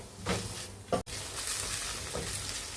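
Chopped medium-size onion sautéing in a pan for palak paneer, a steady loud sizzle with a couple of stirring scrapes and one brief cut-out partway through.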